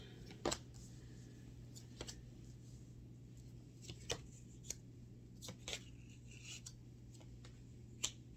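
Faint, scattered riffling and soft card snaps of tarot cards being shuffled come and go at irregular intervals over a low steady hum, close by and quiet.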